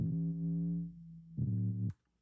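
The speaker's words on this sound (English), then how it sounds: "it's just a basic sine wave, just creating that fundamental sub at the bottom" A pure sine-wave sub bass for a drum and bass track sounds in two sustained, low, smooth notes, the second one louder, before cutting off abruptly into silence.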